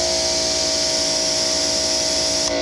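A Greenworks 2000 psi electric pressure washer runs with a steady, loud motor hum and hiss of spray, unbroken for almost three seconds before a brief change near the end, with no talking.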